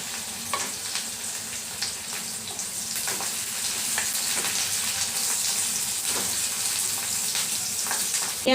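Onion, green chilli and garlic fry in hot oil, a dense, bright sizzle that swells and hisses continuously, with brief scrapes and stirring clicks scattered through it.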